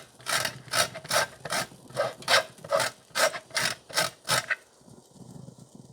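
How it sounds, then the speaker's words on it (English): Lime zest is rasped on a fine grater in about eleven quick, even strokes, each a crisp scratchy swipe, close up, followed by a brief quiet lull with faint handling noise. "you got to use a fine grater. You're going to grate that, a quarter of it, of the lime"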